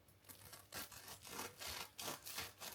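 A crisp croissant is bitten and torn apart close up, with repeated short flaky crunching and rustling bursts at an uneven rhythm, quiet overall.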